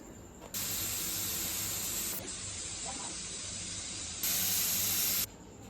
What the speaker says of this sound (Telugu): త్రీ విజిల్స్ వచ్చాయి